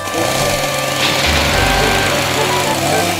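A chainsaw cutting trees: a loud, continuous motor drone with a buzzing, high-revving engine whine, steady and close throughout.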